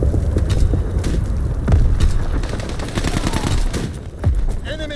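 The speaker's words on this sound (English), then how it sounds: "Fighter pilot ready for strafing run." Strafing run by a fighter plane in a video game, with dense bursts of rapid machine-gun fire and booming impacts running through the clip, loud and continuous, with faint speech mixed in.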